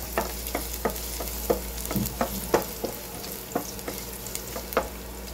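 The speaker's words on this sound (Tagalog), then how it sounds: "lagay ko na ang bawang dahil mainit ng mantika" Garlic sizzles in hot oil in a frying pan. A steady, fairly quiet crackle runs throughout, with a string of sharper spatter pops coming every half second or so, and no talking.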